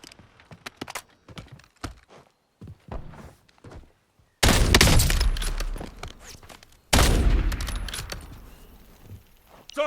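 Gunfire in the shooter game Warzone: scattered footsteps and small clicks, then two loud sustained bursts of automatic fire with booming low end, the second starting a couple of seconds after the first ends.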